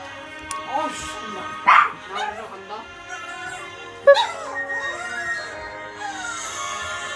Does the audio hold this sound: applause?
no